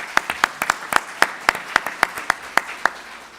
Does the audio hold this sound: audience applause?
yes